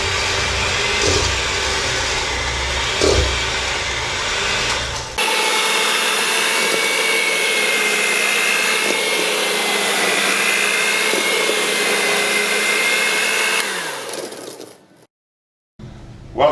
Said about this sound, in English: We added the softened butter and we also added the sugar, and we're going to blend this until it gets to be nice and foamy.